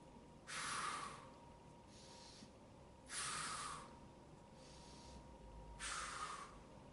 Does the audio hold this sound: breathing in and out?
yes